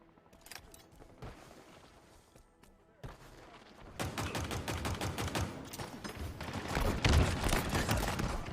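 Halo Infinite gunfire, including the Sidekick pistol, starts as scattered shots and builds into dense, continuous rapid fire with booming impacts, loud and close, while a voice talks faintly underneath.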